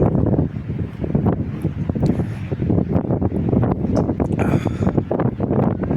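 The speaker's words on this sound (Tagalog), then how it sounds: "Lamig na hangin." Cold, gusty wind at Kiama on the South Coast of New South Wales, Australia, buffets the microphone continuously, a rough, uneven roar with rustling bursts and no voices.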